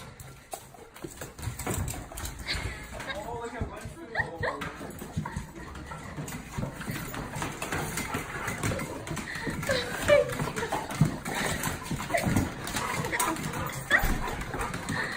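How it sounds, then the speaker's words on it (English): An excited dog greeting its best friend gives off a busy stretch of yips, whimpers and short barks, with scuffling and movement noise throughout at close range. "This dog is super excited to see its best friend."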